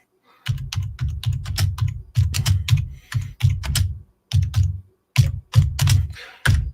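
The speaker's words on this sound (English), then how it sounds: "that's my one finger typing" A computer keyboard is typed on with one finger, close and crisp, in uneven bursts of single keystrokes separated by short pauses.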